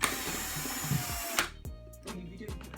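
A power drill whines steadily during a curtain installation indoors, then cuts off abruptly, followed by scattered clicks and handling knocks.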